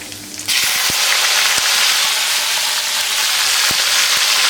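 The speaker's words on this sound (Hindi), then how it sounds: "और अब इसमें छोंक देंगे हम हमारी ये मिर्ची जो कि मैंने धो के रख दी है" Washed green chillies hit hot oil tempered with nigella, hing and cumin, bursting into a loud, dense sizzle after a brief quieter moment, then hissing steadily with a few sharp pops.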